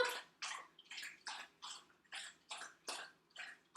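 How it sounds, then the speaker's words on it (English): A puppy laps water from a bowl indoors, a steady run of about nine quick wet slurping bursts in even rhythm, close by and fairly quiet, with no talking. "you'll probably hear my puppy drinking water"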